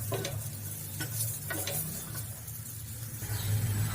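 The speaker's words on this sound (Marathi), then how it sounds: "आता याला मस्त अजून फ्राय करून घ्यायचं आहे" Chickpeas fry in oil with black salt in a pan, giving a faint steady sizzle with a few soft stirring scrapes and taps.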